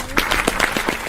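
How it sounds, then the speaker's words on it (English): Brief, scattered golf clap from a small roast comedy show audience at the end of the show, a handful of distinct hand claps in quick irregular succession with a little background voice. "One last golfer's clap for Anastasia Washington."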